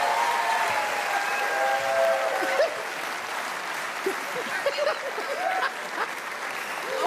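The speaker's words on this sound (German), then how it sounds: "Einen kleinen Applaus, einen großen Applaus." An audience applauds a volunteer named Carmen at a stage show, a steady wash of clapping that fills the whole stretch with a few sharper claps near the end.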